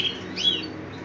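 Four young pigeon squabs chirp in a nest, giving a thin high tweet against a soft low hum, brief and close.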